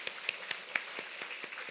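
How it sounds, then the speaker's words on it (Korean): A church congregation claps to welcome first-time visitors during a Sunday worship service, a steady run of fairly quick, evenly spaced claps, soft and somewhat distant. "김도영 유은숙 성도님 오늘 처음 나오셨는데 우리 큰 박수로 우리 환영하겠습니다"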